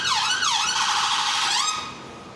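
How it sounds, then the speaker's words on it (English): An ambulance siren wails loudly and close by on Regent Street in London, its sweeping up-and-down tone cycling repeatedly before fading slightly toward the end. "It's an ambulance making lots of noise."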